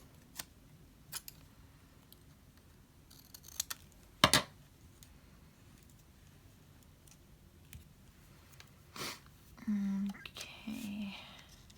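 Scissors cut through a book page for junk journal pockets: a few quiet, sharp snips among soft paper rustles and handling noises in a quiet room.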